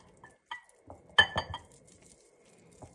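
A utensil clinks and taps against a bowl as butter is stirred into cocoa, a handful of light scattered knocks with one sharper clink, quiet and close.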